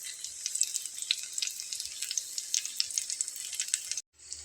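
Bread sandwiches with potato or egg filling fry in a shallow layer of oil, crackling with a close stream of sharp spattering pops that stops abruptly near the end.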